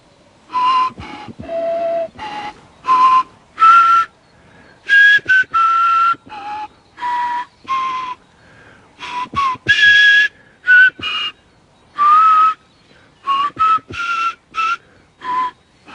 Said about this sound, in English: when I first reconstructed the instrument and tried to play some tunes